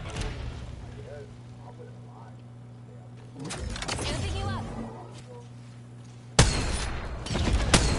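Gunfire in Apex Legends, with muffled bursts and booms under a low hum, then a loud sharp volley near the end, while players talk over it.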